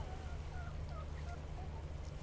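Hens in a backyard chicken coop on a Florida food forest homestead, with faint scattered clucks and calls over a steady low background hum, all fairly distant.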